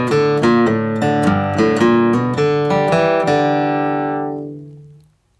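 A flatpicked acoustic guitar plays a fast bluegrass lick from Cripple Creek, a steady run of about a dozen crisp picked notes in even rhythm that ends on a ringing chord fading out. Bright, close and solo, with no talking.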